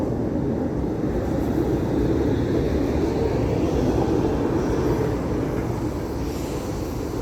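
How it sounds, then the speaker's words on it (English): A pair of F-18 or F-24 military jets fly overhead together, a broad steady roar that holds for several seconds with no break and fades slightly toward the end. "there goes a couple of F-18s or F-24s flying together"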